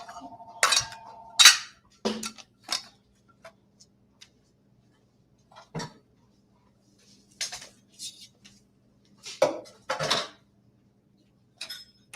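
Dishes and utensils clink and clatter in scattered bursts as a cooking-class kitchen station is tidied up, with quiet pauses between the knocks.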